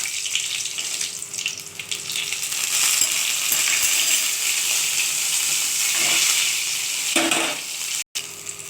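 Panch phoron spices and dried red chillies dropped into hot mustard oil, a steady loud crackling sizzle throughout with brief spattering pops and a short clink near the end, no talking.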